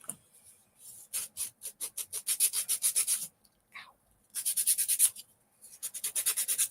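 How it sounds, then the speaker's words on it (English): A craft piece is sanded by hand in rapid back-and-forth strokes, bursts of rhythmic scratchy rubbing separated by short pauses, close and clear with no talking. "let's sand this down"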